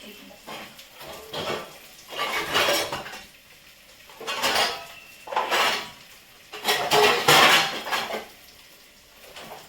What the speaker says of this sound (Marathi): मी आता हे अशा प्रकारामध्ये टोमॅटो कापले एकदम छोटे छोटे स्लाइस करून